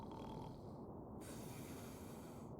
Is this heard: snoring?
yes